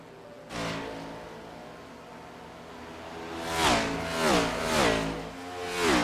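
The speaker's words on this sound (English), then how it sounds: "I hear cars again" Race cars in a racing game at Homestead sweep past one after another, engines rising and falling in repeated whooshing passes that grow louder toward the end.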